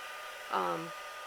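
A short burst of a hot-air heat gun blowing, a loud whoosh with a whining tone that rises then fades after about half a second, over steady background hiss.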